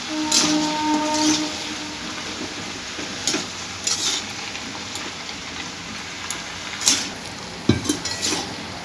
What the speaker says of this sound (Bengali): খুব ভালো করে সব উপকরণগুলো মিশিয়ে নিচ্ছি।